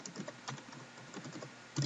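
Typing on a computer keyboard at a desk, a quick run of light clicking keystrokes at close range, ending with a louder key press.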